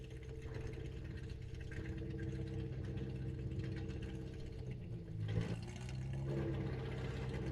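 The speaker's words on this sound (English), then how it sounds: "Leave the mic open so you guys can hear the engine." A land speed race car engine running at Bonneville, a steady mid-pitched drone heard from a distance with a brief surge near the end, no talk over it.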